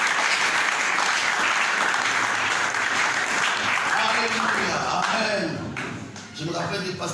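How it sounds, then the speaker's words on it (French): A church congregation applauds in a dense, sustained burst of clapping that thins toward the end, with voices calling out over the claps. "Applaudissons notre Dieu."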